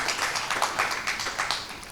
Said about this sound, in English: Big clap for Henna also